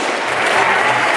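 Applause for a girl at a raffle during a popular baby-carriage walk, a steady crowd clapping throughout, fairly loud and close, with no clear pauses.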